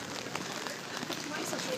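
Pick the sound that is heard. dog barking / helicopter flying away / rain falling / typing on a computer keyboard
rain falling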